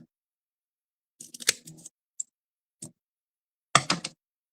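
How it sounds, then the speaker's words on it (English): Scissors snip close through paper in a paper craft project: a few short crisp cuts, close and fairly quiet, with brief pauses between them and a final quick burst of snipping. "So I will just cut this really close."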